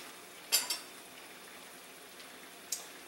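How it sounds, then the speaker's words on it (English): A sauce reduces at a rolling boil, giving a faint, steady bubbling and sizzling hiss with a couple of soft utensil clinks, quiet and close, with no talk. "I'm just going to let this reduce a little. Got a good rolling boil."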